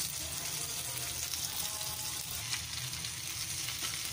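Spicy chicken vegetable macaroni with ground black pepper and salt stirred in a hot pan: a steady soft sizzle and frying hiss with faint stirring scrapes, close and quiet throughout.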